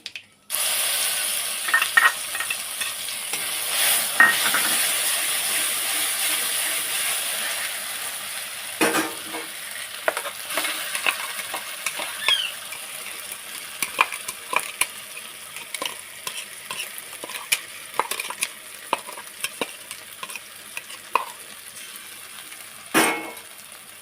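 Spice paste frying in hot oil with black cumin for a pointed gourd bharta: a continuous, fairly bright sizzle runs throughout, broken by irregular scraping and knocking of a spatula against the pan, with no talk.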